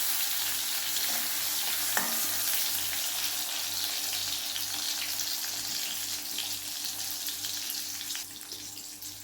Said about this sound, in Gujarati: એને 1 કે 2 મિનિટ માટે આપણે શેકી લેવાનું છે।